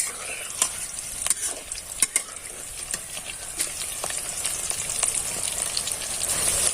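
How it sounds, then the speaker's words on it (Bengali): Raw potato pakoras fry in hot oil in a wok with a steady sizzle, while sharp clicks and taps from stirring and turning land at irregular intervals. "এবার আমি একে একে পকোড়াগুলোকে ভেজে নেব।"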